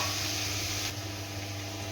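Chopped tomatoes frying in a hot pan with chilli powder give a steady, close sizzle and hiss with no break, and no voices over it.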